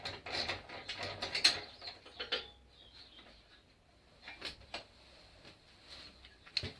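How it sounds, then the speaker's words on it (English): A wrench works a nut off a Yamaha Virago motorbike in a quiet workshop, giving a few soft ratcheting clicks and light metallic clinks spaced between pauses. "I'm just going to take the nut off the other side."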